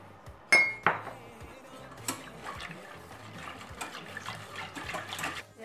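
A glass of water is poured into a cooking pot while making Afghan baslogh. A couple of sharp metallic clinks come first, then a soft, steady splash and trickle nearby.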